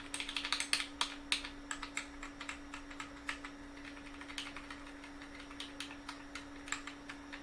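Typing on an IBM PCjr keyboard with better replacement keys on the original mechanism, a steady run of quick clicky keystrokes, busier at first and then sparser, close by and fairly quiet with no talk.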